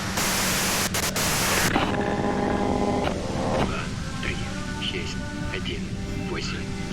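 Harsh white-noise static from a video game hisses loudly for under two seconds, then cuts to quieter tonal game sounds with a voice speaking over them.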